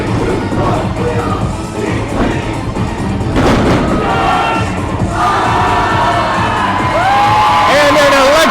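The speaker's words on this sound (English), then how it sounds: "an electrifying performance from Team Infinity as the crowd goes wild here in Minnesota" A crowd roars and cheers loudly after a Team Infinity martial arts performance at a NASKA night show in Minnesota, sustained and dense, with an announcer's voice calling over the noise.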